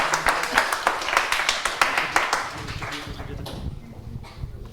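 A live audience at a student quiz-show evening claps loudly with distinct individual hand claps, then the applause thins and fades over the last second or two.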